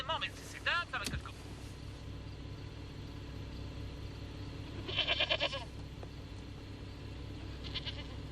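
A goat bleats in short quavering calls, a couple near the start and another cluster midway, fairly faint against a low engine-like hum, with people talking nearby.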